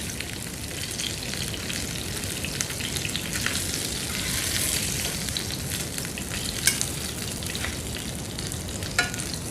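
Fish from the Arabian Sea frying without oil in a pan, a steady close crackling sizzle with occasional sharp pops and light stirring scrapes, continuous throughout with no talking.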